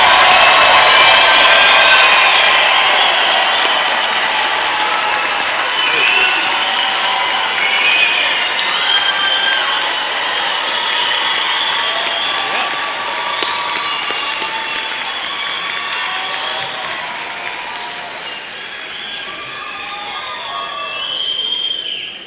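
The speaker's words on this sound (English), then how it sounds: "let's give a roaring applause to these graduates" Roaring applause for graduates at a fall undergraduate commencement ceremony, a large audience clapping and cheering loudly and continuously, slowly easing in volume over about twenty seconds.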